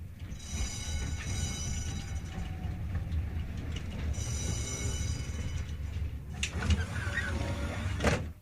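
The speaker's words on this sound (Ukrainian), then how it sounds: "Це трамвай." A tram rumbles along with a steady low drone and a faint whining tone, then clanks and hisses as doors operate near the end.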